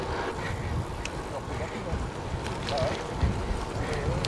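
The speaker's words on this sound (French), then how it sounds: "Il y a un vent à décorner les bœufs. Je pense qu'on l'entend à la caméra." Strong easterly wind roars across the microphone of a cyclist riding long distance in a group, a steady broadband rush with gusts and no speech.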